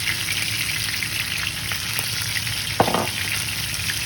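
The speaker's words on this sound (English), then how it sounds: "Smash the burgers. Cook for 3 minutes." Smashed chuck steak burgers frying on a hot surface, a loud continuous sizzle and crackle throughout with one brief scrape partway through, no voices.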